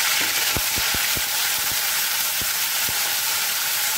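Onion, ginger and garlic paste frying in hot oil after tempering spices, giving a loud, steady close-up sizzle with occasional soft stirring taps.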